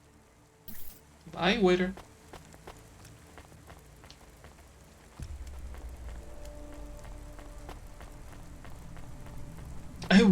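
Steady rain in a neon city in the video game Cloudpunk hisses softly throughout, growing denser partway through, with a few brief voices and sharp interface blips over it.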